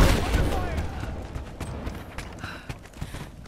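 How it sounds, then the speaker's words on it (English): Gunfire in the video game Rise of the Tomb Raider: a rapid scatter of sharp shots and impacts over a dense action backdrop, loud at first and then thinning, with bursts continuing throughout. "Give me covering fire!"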